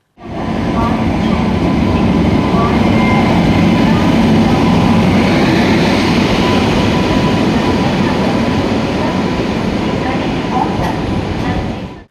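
The Kottayam–Nilambur Intercity Express, an electric train on the newly electrified Shoranur–Nilambur line, rolls past loudly and steadily, its continuous rumble and clatter filling the whole stretch before cutting off abruptly.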